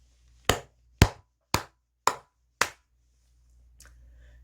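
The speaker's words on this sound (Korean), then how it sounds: "크게 박수 한번 치고 가도록 하겠습니다." Five sharp hand claps ring out alone at an even pace, close and loud, like a single person clapping on a broadcast about investment news, followed by a faint rustle.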